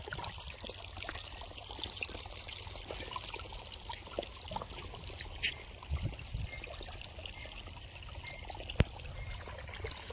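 Water carrying a growth-promoter culture, fed from an earthen pot, trickles gently along an irrigation channel in a potato field, a steady, continuous flow with no voices.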